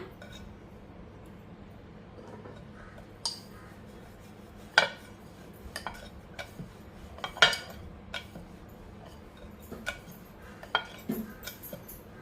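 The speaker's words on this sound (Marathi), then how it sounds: "आता छोटे छोटे पात लाटून घेऊया" Small discs of besan karanji dough rolled out with a rolling pin, with sparse clacks and knocks of wood against the board over a quiet low hum, no talking.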